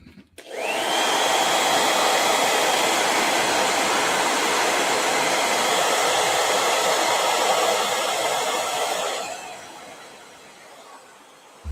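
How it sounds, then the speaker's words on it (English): A handheld blow dryer starts up and roars loud and steady at close range for about nine seconds, then cuts off and winds down, with no talking over it. "That dryer is like a freaking cannon,"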